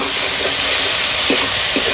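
A spice paste of ground mustard, turmeric, salt, chopped tomato and a little sugar fries in a pan, making a loud, dense, continuous sizzle with a few brief stirring scrapes.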